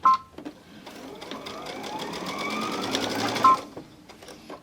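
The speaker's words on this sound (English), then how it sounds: "I'm going to go ahead and sew a 1/4 inch seam all the way around" A sewing machine stitches a quarter-inch seam on a purse organizer, running steadily for about three seconds between short pauses, with a faint click near the start and end and no talking.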